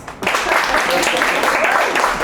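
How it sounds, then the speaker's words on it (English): Audience applause at a comedy show, a steady wash of clapping starting abruptly and carrying on evenly for a couple of seconds, close and moderately loud. "I think that deserves a round of applause"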